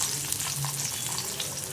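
Onions frying in oil left over from frying pappadam give a close, steady sizzle with light crackles and a faint stirring sound, with no voices.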